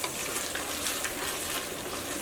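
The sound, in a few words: stirring potato mixture in a pan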